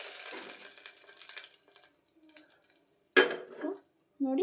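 Tempering for a simple lentil sambar poured into a cooking pot, with metal clinks and scraping, a sharp clatter, then brief sizzling bursts, close and fairly quiet.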